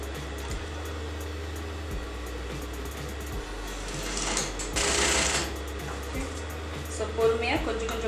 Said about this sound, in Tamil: லே பண்ணி இதை அழகாக தைச்சி எடுத்துடலாம்.